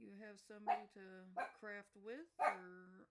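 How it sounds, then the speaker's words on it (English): Small dogs bark in a rapid series of sharp, yappy barks close by, mixed in with a person talking over them. "sorry about my dogs."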